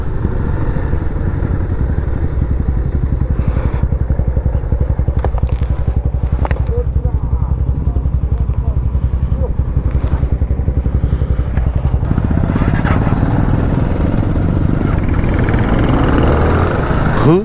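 A motorcycle engine drones steadily and close while riding in second gear on a road through Bhadra Tiger Reserve, with a constant throbbing rumble, wind buffeting and occasional clatter, and a rider talking over it.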